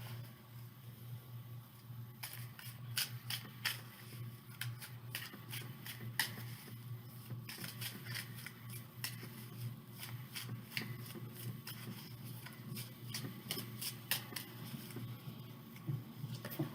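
Tarot cards shuffled by hand, a steady riffling patter of rapid card slaps and flicks running throughout, close and moderately loud over a low background hum.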